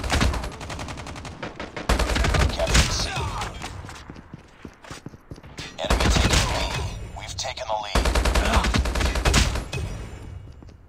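Rapid bursts of HBRa3 assault rifle fire in Call of Duty Mobile, loud and near, in several sustained volleys with brief pauses between them, over game effects and a player talking.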